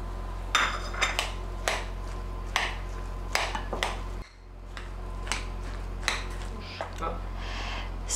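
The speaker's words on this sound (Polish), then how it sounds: "Do tego wsypujemy cynamon i wszystko dokładnie mieszamy." A spoon scrapes and clinks against a bowl while grated apples are mixed with cinnamon for an apple cake, giving repeated sharp taps close by over a steady low hum.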